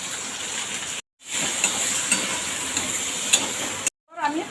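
Onions hit hot oil in a village kitchen pan, giving a loud, continuous sizzle and hiss, broken twice by brief silent cuts, with a faint stir and clatter near the end.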